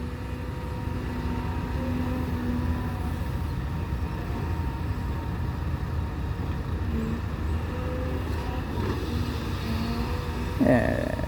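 An excavator engine runs at a pond-digging site where a two-rai pond is being dug and beds are being raised for durian. It gives a steady, continuous diesel drone throughout, with a brief louder rattle near the end.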